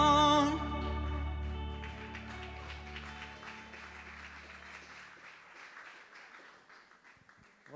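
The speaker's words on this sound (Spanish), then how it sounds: "Vamos a darle un mejor aplauso a ella." A church congregation at a Sunday service applauds, the clapping starting loud right after a few sustained musical tones, then gradually thinning and fading to scattered claps.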